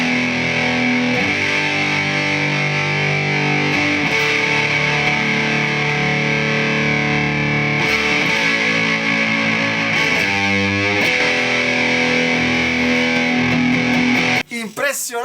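An electric guitar plays through a sustain pedal with sustain at maximum, tone at half and volume at a quarter. Long, singing distorted notes ring out alone, ending with a brief abrupt scrape.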